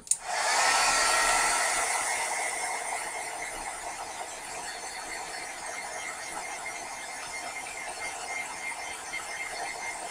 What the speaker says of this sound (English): Maybe I better hit it with the heat gun.